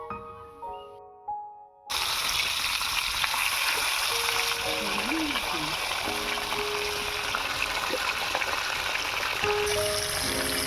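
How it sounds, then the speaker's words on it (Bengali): After a short burst of tonal music, a loud continuous sizzle of fish frying in hot mustard oil, with a voice speaking over it. "এবারে মাছগুলো ভেজে নেবো"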